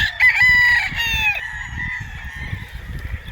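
A Street Comb Gilmore gamefowl rooster at a gamefarm in Tanauan, Batangas lets out one loud, close crow, followed by quieter rustling and low background murmur.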